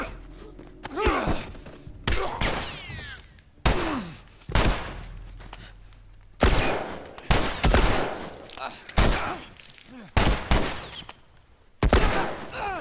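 Gunfire in The Last of Us, a series of sharp, loud shot bursts and booming impacts repeating every second or so, with short quiet gaps between them.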